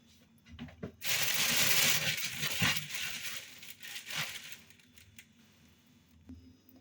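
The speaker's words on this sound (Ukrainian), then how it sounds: "Купила ось такий пакет в пакетику дещо. Давайте розпакуємо разом." A plastic bag rustles and crinkles as it is unpacked, with quiet, close, irregular crackling bursts that fade toward the end.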